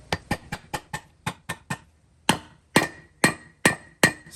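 Steel hammer blows driving a front wheel bearing into the hub of a Toyota 100 Series Land Cruiser: a quick run of nine sharp strikes, a pause, then five heavier ringing blows with a metallic tone, close and clear with no talk.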